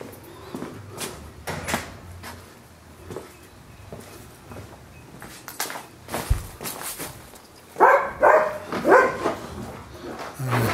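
Several dogs bark in a backyard, bursts of barking spread through the scene with louder, closer barks toward the end, mixed with scuffing and door-like knocks.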